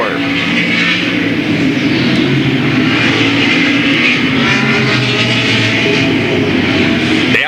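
Late model race cars, a pair of 1992 Chevy Camaros leading, roar around a speedway at full throttle, a loud sustained engine drone with crowd-like wash underneath.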